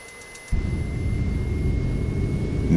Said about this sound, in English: Now that both engines are running,